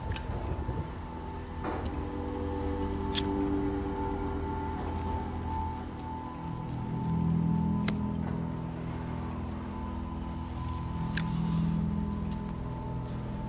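Rain falling outside on a dark night, a continuous wash of patter and drips with occasional sharp clinks and a steady low hum beneath, no voices.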